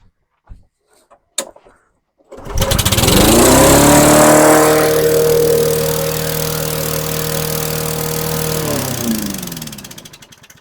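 A few knocks come first, then a rebuilt lawn mower engine with a clean carburetor starts up and runs loud and fast, racing at high RPM with a steady roar before its pitch drops and it winds down near the end.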